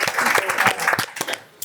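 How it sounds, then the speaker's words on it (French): A small group claps briefly in a French-language conversation, a short burst of scattered claps mixed with talking that fades out near the end. "Ouais, on s'applaudit."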